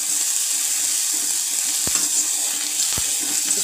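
Potatoes frying in hot oil tinted with turmeric give a steady close hiss and sizzle, broken by two brief clicks of a utensil against the pan.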